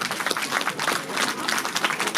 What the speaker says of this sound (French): on pourra applaudir encore beaucoup plus fort notre ami Gilles et sa choriste Chantal.